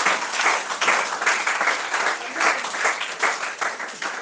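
Congregation at a church sermon applauding together in acclamation of the Lord, a dense, steady wash of many hands clapping that swells and pulses for about four seconds.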